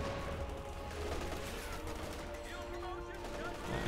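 An MG34 machine gun in Company of Heroes 2 rattles off sustained automatic fire, a dense crackling stream of shots over distant battlefield rumble, fairly quiet in the mix.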